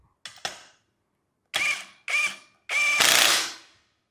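A Bosch GDS 18V-350 cordless impact wrench on speed one tightens a fastener: two quick short bursts, a pause, then three louder hammering runs, the last one longest, close and clear with no talk.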